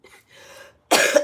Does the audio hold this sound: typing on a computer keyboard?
no